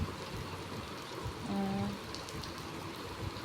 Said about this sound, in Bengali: বৃষ্টির শব্দ আসে।